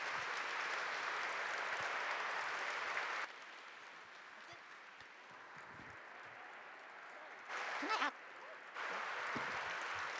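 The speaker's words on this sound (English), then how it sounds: "Can I ask for a final round of applause for SIPA's own Ressa?" Audience applause for a keynote speaker at SIPA Alumni Day 2025: a steady wash of clapping fills the room, drops to a quieter patter midway, and swells again near the end.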